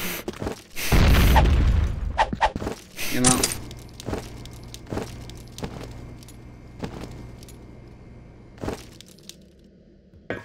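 A grenade explodes in a Counter-Strike style video game: a loud, close blast early on, then a second sharp burst and scattered clicks and metallic rattles over a low background hum, with voices occasionally present.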